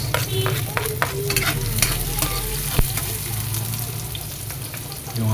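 Onions frying in hot oil in a pan for shrimp paste sauté, a loud close sizzle with stirring scrapes and clinks of a utensil against the pan.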